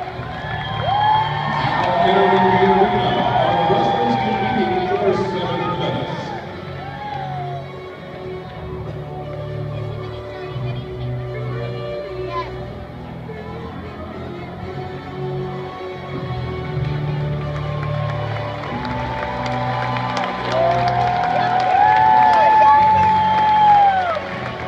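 A crowd in an arena applauds and cheers for the 2014 All-Ohio high school wrestlers, a loud continuous roar of clapping, whoops and shouts that swells again near the end, with voices mixed in.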